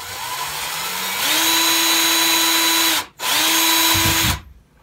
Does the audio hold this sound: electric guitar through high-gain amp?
no